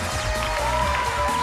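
Studio audience applause and cheering welcome a guest on a Taiwanese TV variety game show, a dense, steady wash of clapping over sustained musical tones.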